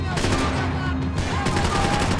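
A submachine gun rattles off fast, sustained bursts in the shooter Max Payne 3, loud and close, mixed with chaotic game noise throughout.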